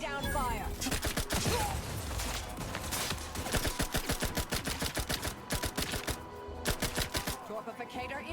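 Rapid volleys of gunfire in a hard-difficulty first-person shooter game, dense repeated shots in bursts with a steady backdrop of music and effects.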